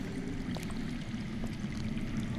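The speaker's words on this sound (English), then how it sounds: "That's water. I hear water. From underground." Underground water flowing in a Game of Thrones video game, a steady low rushing and gurgling murmur, continuous and muffled with no voices.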